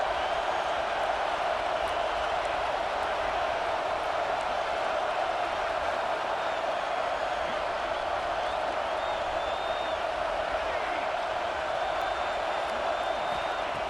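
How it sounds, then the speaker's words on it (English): A home stadium crowd in a college football video game roars in a dense, continuous wash of cheering and applause that holds steady without a break, with commentary voices faint or absent. "this home crowd is fired up and ready to make a difference today"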